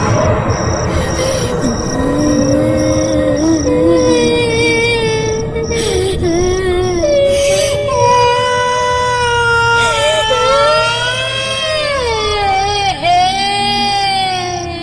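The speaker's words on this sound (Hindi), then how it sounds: "हमें रात भर बच्चों के रोने की आवाज सुनाई देती रही" Children crying through the night, wavering high wails and whimpers rising and falling continuously, layered over a steady low droning background.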